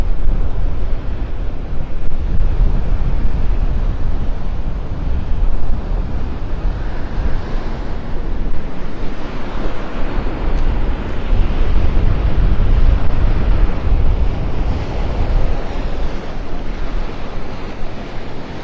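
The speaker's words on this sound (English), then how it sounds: "The wind might be dying down a little bit now." Surf breaking steadily on Vanderbilt Beach in North Naples, with strong wind buffeting across the whole stretch, a continuous loud roar of waves and gusts and no voices.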